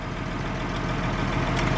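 Tractor engine idling in a steady low rumble, heard from inside the cab, with a constant drone and no speech over it.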